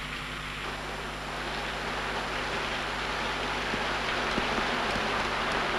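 Steady rain falls with a soft, even hiss for several seconds at low volume. There are a few faint drips and no voices.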